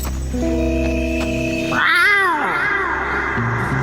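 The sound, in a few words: Ocelot meowing like a cat, Metal Gear Solid 3 video game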